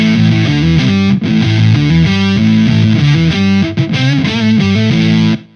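Electric guitar played through an MXR Sub Machine octave fuzz pedal with the effect out of series, giving a thick, distorted tone with a low octave line like a bass following along; loud, continuous riffing with two brief gaps, no talking.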